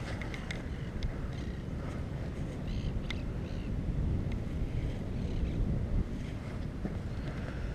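Steady wind buffets the microphone at a beach where a four-line Sting 3.3 kite is being flown, a constant low rushing roar with gentle swells and no voices.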